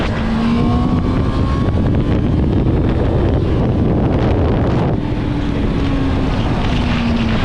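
Riding a Honda CBR650F motorcycle: a steady engine drone with a rising and falling tone holds throughout at close range, heavily buffeted by wind rush over the microphone, with no speech.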